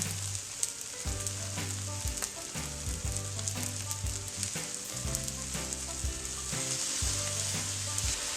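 Curry chicken fried rice sizzles loudly in a hot pan while being mixed, with steady frying hiss under repeated scraping and tossing strokes of a utensil against the metal.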